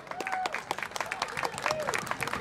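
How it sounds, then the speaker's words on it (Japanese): Festival crowd in Japan applauds to welcome a singer onstage, with scattered distinct claps over a lively murmur and some voices, moderately loud and fairly close. "大きな拍手でお迎えください。"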